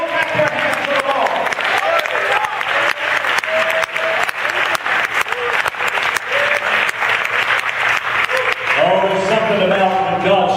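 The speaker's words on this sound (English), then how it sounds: "Come on, clap your hands to the Lord." A church congregation at a Sunday service claps their hands in a loud, dense, continuous burst that runs the whole time, with voices mixed in beneath the clapping and a crowd swell near the end.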